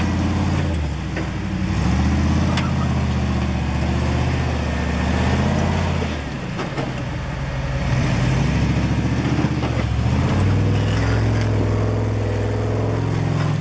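A Jeep Comanche crawling over rock obstacles at Moab, its engine droning loud and steady with shifting revs that dip briefly midway before climbing again, heard close with no talk.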